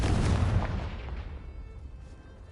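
Confringo blasting spell from Hogwarts Legacy going off in a loud, close boom that rolls on as a dense rumbling blast and slowly fades over a couple of seconds, with no voices.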